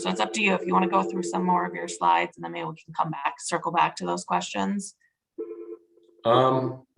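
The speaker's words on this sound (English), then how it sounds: "I apologize that my phone keeps ringing." A phone rings with a short steady electronic tone during a lull in an online meeting about county roles in pipeline construction, after someone speaks continuously.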